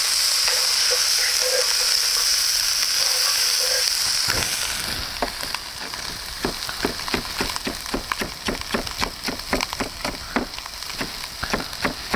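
A mixture for red beans fries loudly in a pan, starting as an even hiss and then turning into a brisk run of repeated scraping strokes as it is stirred.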